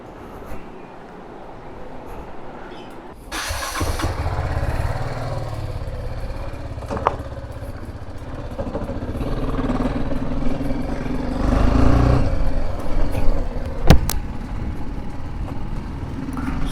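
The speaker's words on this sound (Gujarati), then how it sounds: "ચલો હું જરાક આ બાઇકનો એક રાઉન્ડ મારીને આવું, જોવું કે વિન્ડ નોઇઝ ને એવું કંઈ આવે છે કે નથી આવતું" A motorcycle ridden by someone wearing an Axor helmet gives a steady, close engine rumble mixed with broadband wind noise that swells and eases over the ride.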